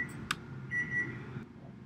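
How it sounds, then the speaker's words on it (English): An oven timer in a home kitchen beeps a few short, fairly faint electronic tones, alone without speech. "I had something in the oven, so it was beeping at me."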